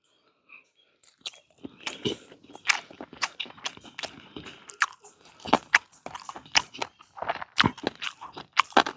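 Close crunchy bites and wet chewing of betel leaf chicken tandoori with charred leaf, a series of sharp crisp crunches in quick irregular rhythm over near silence.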